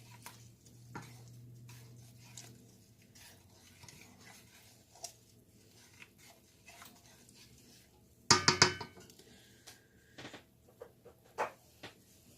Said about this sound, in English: go ahead and get that stirred in really good